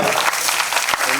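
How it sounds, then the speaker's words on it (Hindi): Applause from an audience at a debut album launch swells in one continuous burst of clapping that fills the whole moment, loud and dense. "अब तो तालियां बज दीजिए, जोरदार तालियां"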